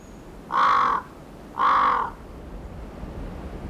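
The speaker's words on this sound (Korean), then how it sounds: "까마귀 소리에도 민감한 반응을 보입니다" A crow gives two loud, harsh caws, about a second apart, against quiet outdoor background noise near the Tumen River.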